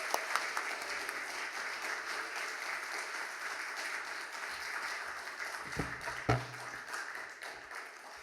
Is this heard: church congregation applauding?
yes